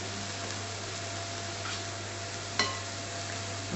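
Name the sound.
turnip and carrots added to pot with water cooking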